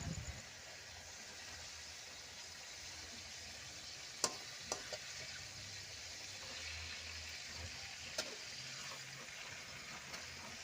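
Chicken inasal sizzles steadily in a pan, a quiet continuous frying hiss with a few sharp pops and clicks scattered through it.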